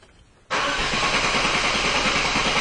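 A car engine with a failed crankshaft position sensor cranks on and on without starting, a steady, loud, continuous starter churn that begins abruptly after a brief quiet moment.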